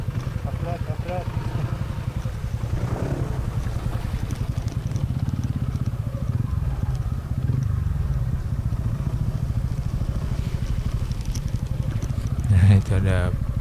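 A TVS Ronin motorcycle riding along a muddy trail, its engine a steady low rumble with some clatter throughout, while people talk over it.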